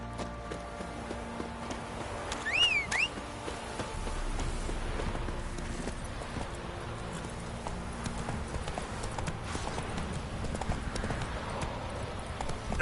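The horse Roach gallops through a video game scene, rapid hoofbeats drumming continuously at close range under background game sound, with a brief whinny near the start and no speech.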